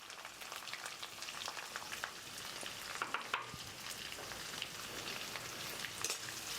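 Onions fry on high flame in hot oil for a soya meal maker pepper gravy, giving a soft, continuous crackling sizzle with scattered pops and faint stirring.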